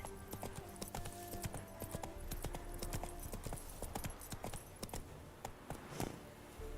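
In a video game, the horse Roach gallops with a quick, rhythmic clip-clop of hooves that runs steadily and close, with faint background sounds and no clear talking.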